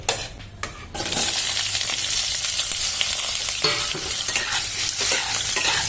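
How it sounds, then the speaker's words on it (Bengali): Pieces of young jackfruit drop into hot oil in which potatoes were just fried, and a loud, dense sizzle bursts up and holds steady, with faint scraping of a utensil in the pan; no voices. "এরপর আমি এই একই তেলে ইঁচড়টিকে ভেজে নেব।"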